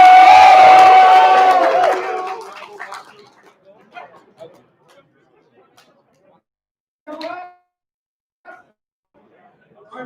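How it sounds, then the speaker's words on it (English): A room of people at a new member retreat erupts in loud cheering and shouting, which dies away after a couple of seconds to scattered quiet voices and a brief later call. "I don't hear enough cheering from your support team."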